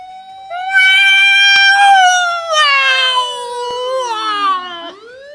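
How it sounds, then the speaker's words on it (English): A police siren approaching in the visual novel game The Fruit of Grisaia, a loud wailing tone that sweeps and then drops in pitch, close and alone with no talking. "Apparently they weren't too far off, as a siren approaches in no time."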